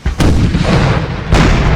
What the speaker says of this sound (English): Oh boy, nothing better than hearing cannon volleys.